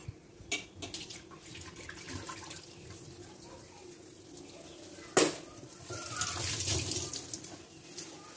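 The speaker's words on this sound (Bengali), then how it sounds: "মাছগুলোকে আমি গরম জল দিয়ে ভালো করে ধুয়ে নিচ্ছি।" Fish are rinsed under hot running tap water at a sink, heard as a faint, steady trickle with a sharp splash partway through and a fuller gush of water toward the end.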